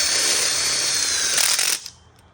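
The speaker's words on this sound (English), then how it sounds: "One guy holds the tape here while the other guy screws it in." A power drill drives screws into outdoor kitchen framing, giving a loud steady whir for under two seconds before it cuts off abruptly into quiet.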